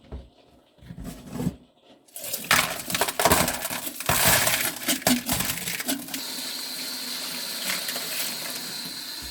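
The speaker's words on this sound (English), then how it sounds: "So I think it's okay to rinse it in the sink." Tumbled banded iron rocks and ceramic media rinsed in a sink, first clattering and grinding against each other, then drowned by a steady rush of running water, close up.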